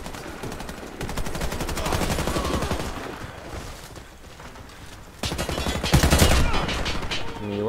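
Rapid bursts of automatic gunfire and single shots crackle loudly from a video game during a live stream, with dense volleys that pause and then resume.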